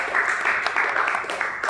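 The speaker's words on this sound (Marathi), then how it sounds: "त्यांच्यासाठी जोरदार टाळ्या वाजवा." Classroom students clap for the winning team in a science quiz game, a short burst of dense, fairly quiet applause that carries on steadily without any voices.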